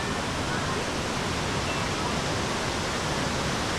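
A steady, dense roar of a waterfall inside a cardamom plantation in Kerala fills the whole clip, loud and continuous without any pause.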